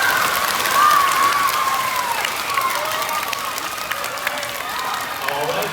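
A school audience at a fifth-grade fall concert applauds, a dense and steady wash of clapping that swells early and then holds at an even level throughout.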